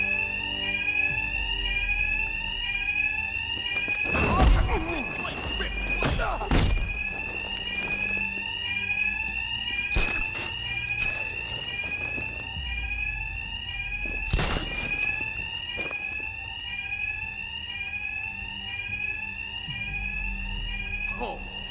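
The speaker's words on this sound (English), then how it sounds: "They got two faces covered by the noise of the alarm." An alarm in Batman: Arkham Knight rings continuously with a loud, repeating electronic tone, punctuated by several sharp impact bursts and other game sounds throughout.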